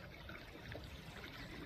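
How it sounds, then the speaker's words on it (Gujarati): Irrigation water running through a fenugreek field: a faint, steady trickling flow with no voices. "આ મેથીમાં પાણી ચાલુ છે"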